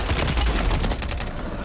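Dense gunfire crackles in an online shooter video game during a sniper encounter, a rapid burst of overlapping loud shots that lasts under two seconds and fades slightly at the end.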